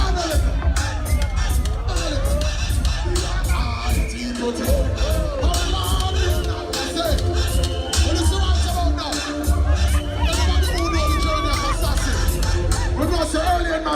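A crowd at a Notting Hill Carnival sound system cheers and whoops, with shouting and busy babble over heavy bass, dense and loud throughout.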